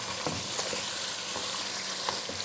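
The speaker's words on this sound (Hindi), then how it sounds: "इसलिए बेहतर होता है कि इसको भून लिया जाए" Mutton trotters frying in a pan with garlic and masala, a steady close sizzle with soft scraping stirs over 2.5 seconds and no talk.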